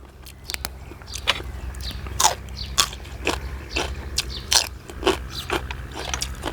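Crunchy chewing of apple snails close to the mic, with repeated crisp bites and crackles in an uneven rhythm and no talking.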